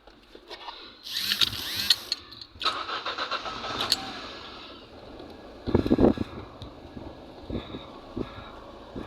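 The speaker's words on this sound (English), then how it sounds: "So the car is starting now." A Ford Bantam's engine cranks and catches in bursts, with rattling mechanical noise and a few louder revs, close up and with no talking.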